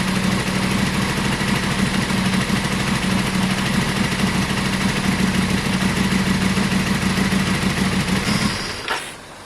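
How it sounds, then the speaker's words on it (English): A Yamaha Virago 535 motorcycle, choke off after carburetor work, idles with a steady low burbling engine note, loud and close, then cuts out near the end. "It doesn't sound too bad at all. That's choke off now."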